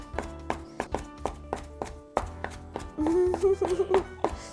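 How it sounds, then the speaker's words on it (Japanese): Rhythmic knife chopping pork into 1–2 cm strips on a cutting board, steady repeated thuds close up, with a voice speaking briefly partway through. "ザクザクザクザク豚肉を切っていきます。"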